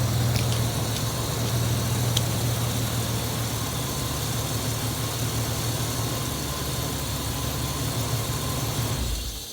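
A 1999 Ford Explorer Sport with a 4.0L SOHC engine and a cold air intake idles steadily with a deep, even low hum and rumble, close by and continuous, until it cuts off abruptly at the end.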